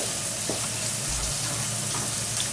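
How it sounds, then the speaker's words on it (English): Meat sizzles steadily in a hot pan, a continuous loud frying crackle with no talking. "Let that meat go on sizzle and get it ready for these greens."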